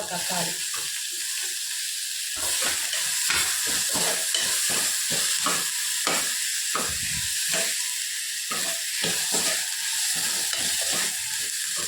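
A utensil scrapes and stirs food around a hot pan in rapid rattling strokes under a steady sizzle, the scraping close and repetitive throughout.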